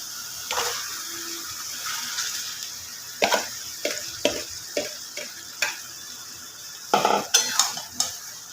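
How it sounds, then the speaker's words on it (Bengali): Marinated chicken frying in hot oil for chicken kosha, with a steady sizzle and a run of sharp spoon-and-pan scrapes and clatters as the pieces are stirred, close and without speech. "এই যে তেলগুলো ছেড়ে দিয়েছি এবার আমি ম্যারিনেট করা চিকেনটা এর মধ্যে দিয়ে দেব"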